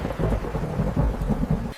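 Steady rain falls over a village, a dense wash of downpour with thunder rolling in repeated low swells beneath it, cut off sharply at the close.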